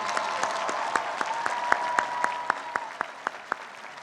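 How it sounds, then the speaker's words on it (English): A seated audience at the University of Pennsylvania's 2016 commencement applauds honorees in a steady, moderately distant wash of clapping, with a few individual claps standing out near the end. "Please join me in applauding these outstanding young men and women."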